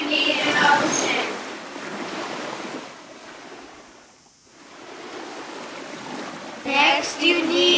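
Ocean surf washes in steady broadband waves for an animated seaside scene, softening briefly midway before a louder swell surges at the end, with no voices.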